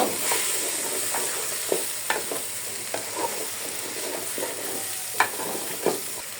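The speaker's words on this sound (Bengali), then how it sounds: "আদা রসুনের পেস্টটা আমি সবসময় চালের সাথে ভাজি" Ginger-garlic paste fries with rice (polao rice) in a pan, making a constant close hissing sizzle with scattered light scrapes and taps from stirring.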